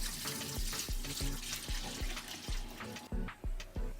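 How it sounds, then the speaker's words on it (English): Salty cold water pours into a container of eggplants, a close, loud splashing gush with rhythmic thumps and bumps as the vegetables shift. "Add salty cold water."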